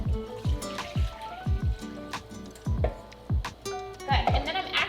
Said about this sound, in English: We're just gonna pour it in the pot.